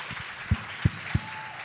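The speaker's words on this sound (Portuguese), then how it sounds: "Vamos aplaudi-los, vamos aplaudi-los." Applause from a church congregation at a cell-group gathering, a steady wash of clapping with a few sharp, close claps standing out.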